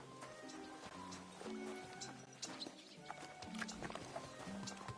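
Horse hooves clip-clop at a steady gait and a horse whinnies in the medieval video game Kingdom Come Deliverance 2, close and moderately loud over tonal background game music.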